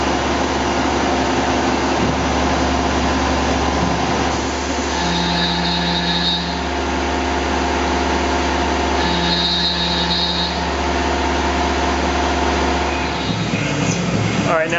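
A Tormach PCNC 1100 CNC mill hums steadily while its cutting tool whines and grinds through aluminum, with two brief high-pitched tones partway through, ending in a louder shift.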